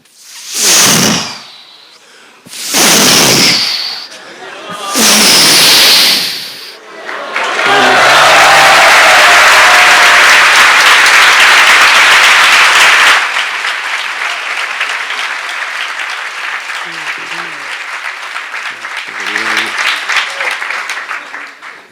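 A lecture audience on Bhakti claps to mimic crashing waves: three short surging bursts of clapping separated by pauses, then one long loud roar of applause that drops off abruptly into quieter clapping and scattered laughter and voices.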